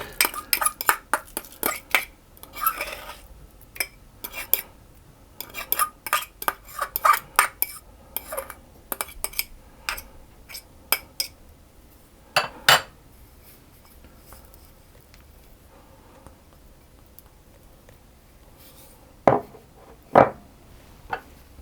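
Egg stirred into buttermilk with garlic in a bowl for scone dough, giving brisk rapid clinks and scrapes of a utensil against the bowl in close bursts, then a quieter stretch and a couple of final taps.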